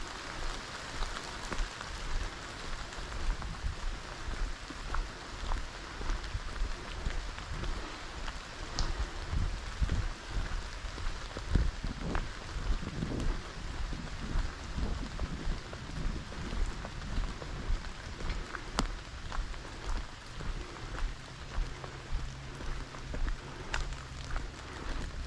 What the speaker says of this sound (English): You can hear the rain on the leaves.